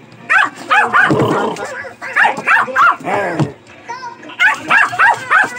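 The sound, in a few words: Pomeranian dog barking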